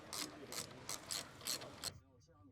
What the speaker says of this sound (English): Using the 7mm hex bit socket with the medium ratcheting wrench, tighten the guide pin of the brake caliper.